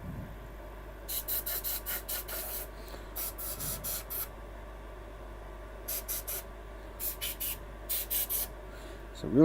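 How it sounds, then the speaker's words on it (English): Sandpaper is pressed against a spinning wood turning on a lathe, giving short, repeated rasping bursts in irregular groups over a low, steady machine hum, close and fairly quiet. "I'm just going to make sure that I sand it into a proper grit"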